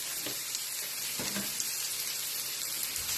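Bacon lardons dropped into a hot pan for a French potato gratin, giving a steady, fairly quiet sizzle with a couple of soft clinks of stirring early on, no voices.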